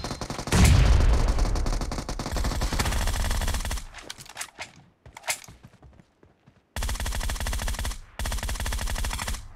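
Rapid machine gun bursts in a video game firefight, loud and dense, with a brief broken lull in the middle before sustained automatic fire resumes.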